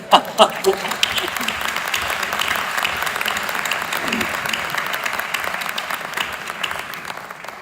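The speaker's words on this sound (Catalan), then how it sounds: "Un aplaudiment!" An audience at a public conversation event breaks into applause after a few isolated claps, building into steady crowd clapping that continues throughout, with some voices mixed in.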